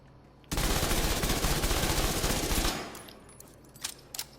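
A long, loud, sustained burst of automatic gunfire in the shooter video game The Division 2 rattles for about two seconds, then trails off into a reverberant tail with a few fainter shots afterward.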